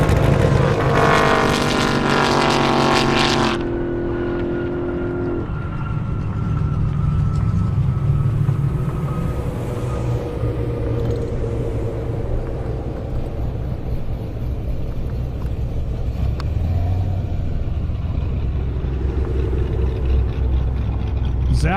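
Drag racing at an airport airstrip, with a Corvette and a Mustang launching hard off the line: loud, rough engine roar and a rising, sustained drone that carries under a commentator's voice talking throughout.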